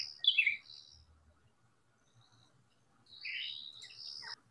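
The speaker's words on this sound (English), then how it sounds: "I can immediately go, oh, that's a cuckoo." A cuckoo calls outdoors in two brief, fairly faint bursts of chattering notes, one near the start and one near the end, with quiet in between.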